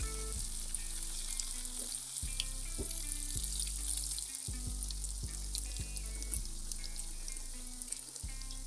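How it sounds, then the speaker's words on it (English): Arrowroot and potato pieces sizzle in hot cooking oil, a constant bright crackling hiss with low rhythmic knocks and shifts as the pan or pieces are moved, close and without talk. "I fried them until they began to turn golden"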